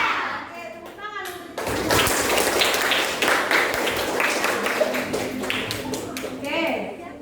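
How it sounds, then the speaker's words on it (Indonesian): A class of children bursts into dense, steady hand clapping for about five seconds, with a young voice heard before and after. "Oke, tepuk tangan."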